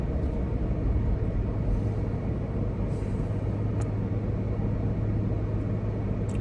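A big truck passes on the road as a heavy, steady low rumble with broadband road noise that holds close and loud through the whole stretch, with no talking.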